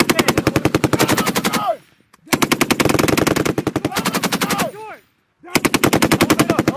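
An M240B machine gun fires at Camp Fuji in three long, loud, close bursts of rapid evenly spaced shots, each bursts ending sharply before a short silent pause.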